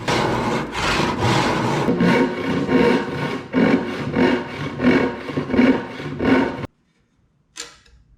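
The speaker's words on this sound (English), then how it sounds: "I sawed down that marking gauge line with a handsaw very carefully" A handsaw cuts along a marking gauge line in wood for a twin mortise and tenon joint, with a close, steady back-and-forth rasp of about a dozen strokes, then a pause and one faint final scrape.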